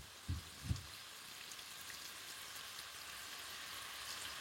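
Stir-fry ingredients sizzle in oil in a frying pan, a faint even crackle after two soft thumps at the start.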